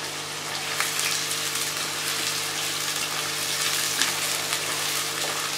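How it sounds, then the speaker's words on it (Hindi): Long onion slices from large onions frying in a pan for chana dal, giving a steady, dense sizzle with faint crackles and stirring that continues evenly throughout, with no talking. "अब प्याजों को मैं तकरीबन थोड़ा सा ब्राउन करूँगी, यानी कि 1/2 ब्राउन कर लूँगी।"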